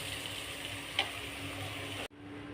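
Continuous sizzling of spices and grated coconut tempering in hot oil, steady and close, with a faint tick partway through before the sound cuts off abruptly.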